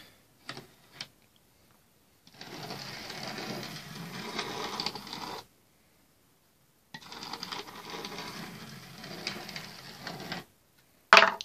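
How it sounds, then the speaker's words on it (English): A model train locomotive motor runs off a 9-volt battery in two bursts of steady whirring buzz, each a few seconds long, separated by silence, with a few faint clicks around them. "if you want to test your loco, you're not too bothered about actual speed or smoothness, get yourself a 9-volt battery."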